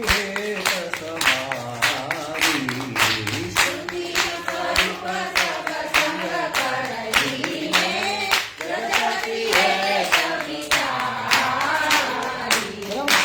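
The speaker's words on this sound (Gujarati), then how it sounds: "પહેલી 3 4 તાળી જે છે 4 તાળી જે છે એ લેવાની છે" Steady rhythmic hand claps keep time through a group kirtan singing lesson, the claps landing close and regular under sustained chanted voices and spoken instruction.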